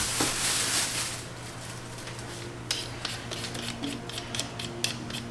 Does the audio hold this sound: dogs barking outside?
no